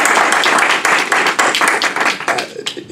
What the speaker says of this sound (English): So I want to give a round of applause, first of all, to Jamaica for making this thing happen in the Caribbean.